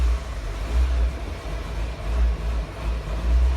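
A Nissan 200SX B14 with a GA16DE engine, running Megasquirt with coil-on-plug ignition and a faulty idle valve, settles after starting into a close, throbbing, uneven idle with a rough low pulse.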